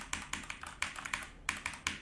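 Typing on an HP Gaming Keyboard 800 mechanical keyboard with red switches: about a dozen crisp, evenly spaced key clacks in quick succession, close and clear with no talking.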